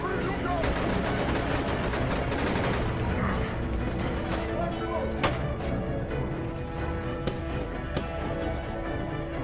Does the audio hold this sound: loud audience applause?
no